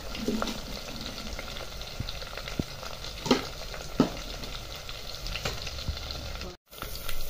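Powdered spices frying in hot oil for a quick dinner amti, with a steady crackling sizzle and repeated spoon scrapes and taps against the pan, close and continuous, with a brief dropout near the end.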